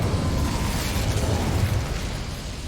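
Bombarda blasting spell in Hogwarts Legacy, heard as a loud rumbling explosion with crackling, tumbling debris that rolls on steadily before easing slightly at the end.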